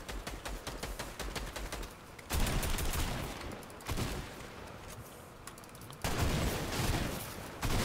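Video game gunfire in a multiplayer shooter match, dense rapid bursts and fusillades coming in loud waves with brief lulls between, close and harsh.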